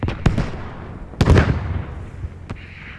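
Missile hits explode in the Armored Squad tank battle game: three sharp, booming blasts at irregular intervals, the middle one heaviest and rumbling longest, over a steady bed of battle noise.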